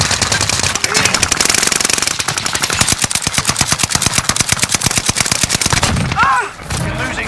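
Rapid automatic gunfire in the Warzone video game, a loud sustained burst of closely spaced shots lasting several seconds before a brief break and a few further sounds.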